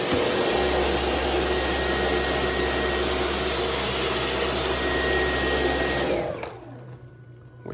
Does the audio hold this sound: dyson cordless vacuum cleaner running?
yes